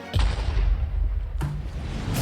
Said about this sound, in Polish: Wybuchłem sobie.